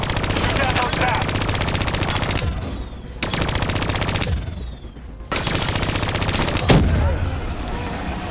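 Loud automatic gunfire from the shooter Call of Duty: Black Ops 3 during a campaign fight against bats, in long rattling bursts broken by short pauses, with a voice speaking over it.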